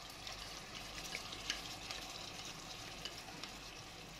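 Alexandrian-style liver fries in a pan with a faint, steady sizzle and occasional soft pops and crackles, no voices over it.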